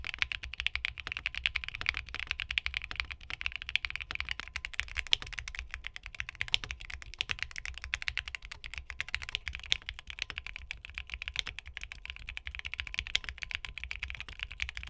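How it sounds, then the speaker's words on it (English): Steady, fast typing on a mechanical keyboard fitted with TTC Venus, North Pole V2 and Aqua King linear switches, a dense run of soft, close clacks with no talking. "So I'll do a quick sound test comparing the Venuses, new North Pole V2s, and Aqua Kings side by side"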